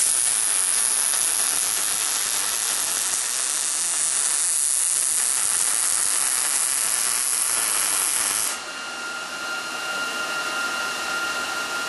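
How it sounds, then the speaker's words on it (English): Steel caster plate being welded onto 2 inch tubing in a fab table build, a steady close hiss and crackle running unbroken for the whole stretch, dropping slightly in level near the end. "Now I'm going to weld it in place."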